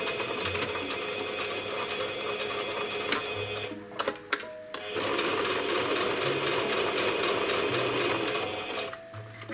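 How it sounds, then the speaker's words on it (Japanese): A sewing machine stitches a zipper onto a small spray case pouch, its rapid mechanical chatter running steadily, pausing briefly in the middle for a few clicks and then resuming at the same close, even pace. "そして続きを縫っていきます。"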